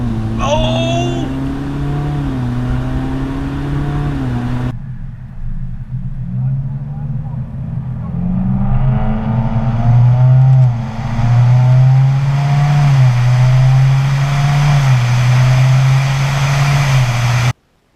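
Subaru WRX engine pulling hard at full throttle, heard from inside the car, revving up through gears with rising and falling pitch as shifts break each climb, loud and sustained under excited shouting.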